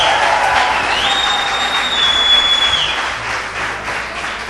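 Churchgoers applaud together at a Mass, a loud, dense crowd of clapping and cheering close by, with a sustained high whistle-like tone through the middle before the clapping slowly tapers off.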